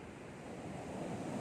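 Ocean waves rolling onto a beach, a steady broad roar mixed with wind buffeting the microphone, faint and unbroken with no voices.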